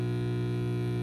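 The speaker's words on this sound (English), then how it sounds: "it's just the same white noise" A malfunctioning oscillator puts out a steady, distorted buzz that clips even at its lowest setting, with dense harmonics, no change in level, and no voices over it.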